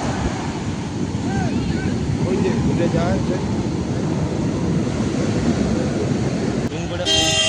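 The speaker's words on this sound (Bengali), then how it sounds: "সমুদ্রের ঢেউ কিন্তু দারুণ আছে।" Sea waves surge and break continuously at Chandrabhaga beach, a loud, steady roar of surf mixed with wind buffeting the microphone throughout, with a brief sharper burst of noise near the end.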